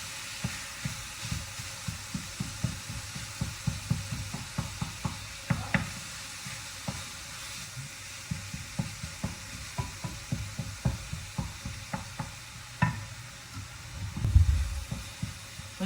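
Meat browning in a hot pan at home, a soft steady sizzle under frequent sharp scraping and tapping from a utensil stirring it, with a louder clatter near the end.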